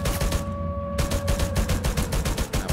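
Rapid automatic gunfire in the video game Free Fire, a loud, steady stream of shots broken by one brief pause near the start, with no talk over it.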